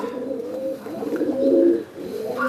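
Andhra and Fulsira breed pigeons coo close by in low, throaty rolling calls that swell and overlap, with a louder burst in the middle and faint ambient noise behind.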